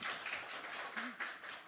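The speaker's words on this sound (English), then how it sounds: "nice clap, nice clap." An event audience claps faintly and unevenly for panel guests at a studio session, a light patter of scattered hands heard at a distance for under two seconds.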